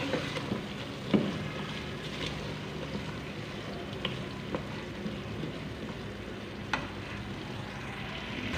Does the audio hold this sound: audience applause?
no